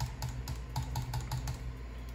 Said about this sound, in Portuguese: deixa eu dar uns cliques aqui na tela.